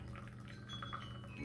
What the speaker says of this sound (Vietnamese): Cái âm thanh của nước nó chảy róc rách cũng sướng.